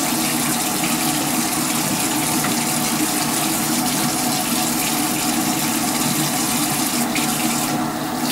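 A running bathroom tap pours steadily while hands are washed beneath it, producing a continuous close splashing rush with slight shifts in the flow near the end and no talking.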